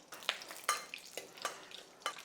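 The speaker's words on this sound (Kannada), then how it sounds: "ಸಾಸಿವೆ ಯಾವತ್ತು ಸಿಡಿಯೋವರೆಗೂ ಕಾಯ್ಕೊಂಡಿರಿ" Mustard seeds popping in a little hot oil for tempering a raw banana dish; faint sizzling with several sharp crackles spaced irregularly, close by and with no voices.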